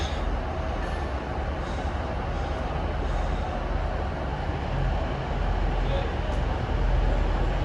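A two-unit train pulls into a station on the Guide Bridge to Stalybridge line, with a sustained rumble and rolling rail noise close by and a few voices faintly underneath.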